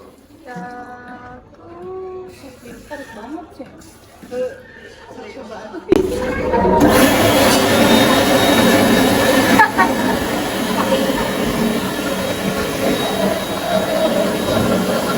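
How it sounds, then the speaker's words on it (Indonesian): A loud hand dryer in a McDonald's restroom switches on with a sudden roaring blast of air that holds steady to the end, after a stretch of people chatting nearby. "ini nih untuk pengering tangannya tuh gede banget suaranya"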